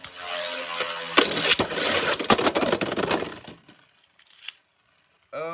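A Mirage Fafnir Beyblade spins and clashes inside a plastic stadium, with a loud rattling grind and sharp impacts for several seconds, then a sudden drop to near quiet before a last burst of scraping.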